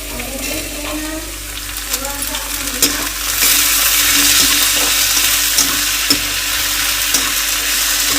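Potatoes and onions fry in a pan while being stirred, producing a loud, close sizzle that swells after a few seconds, with scraping and clinking of the spoon at intervals.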